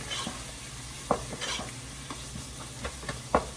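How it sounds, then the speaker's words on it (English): Mixed vegetables being stirred in a pot for Nigerian coconut fried rice, a soft sizzle beneath irregular spoon clinks and scrapes against the pot, close and fairly quiet. "So I give that a good mix as well."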